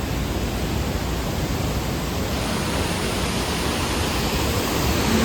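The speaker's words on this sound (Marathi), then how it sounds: "हा नापणी धबधबा इथून मेन धबधबा आहे" Napne waterfall near Vaibhavwadi roars as a steady, loud rush of falling water, a dense unbroken wash of noise filling the whole clip with no voices.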